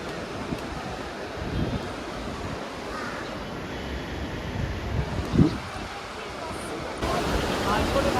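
Cold wind blows through the Himalayan village of Tosh, making a broad, steady rushing and buffeting against the microphone. It swells slightly toward the end.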